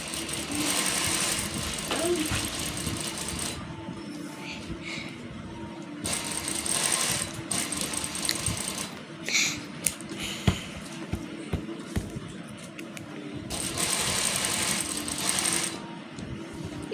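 Sewing machine stitching a scalloped edge on trouser fabric, heard as close, rapid mechanical whirring in several runs separated by short pauses with small clicks, while someone talks over it.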